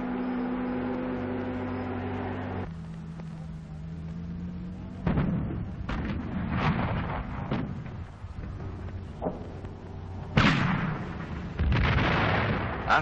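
Archival wartime footage of an artillery barrage at the siege of Tobruk, with a low droning tone giving way to repeated heavy booms and rumbling blasts that come in loud bursts.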